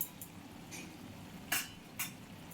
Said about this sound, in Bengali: ভালো করে সব মিশিয়ে নিচ্ছি